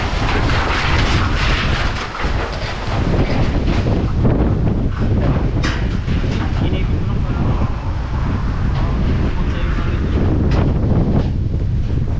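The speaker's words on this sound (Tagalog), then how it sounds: "ang hangin" Strong gusty typhoon wind roars across the microphone continuously in Sual, loud and buffeting, with faint voices mixed in.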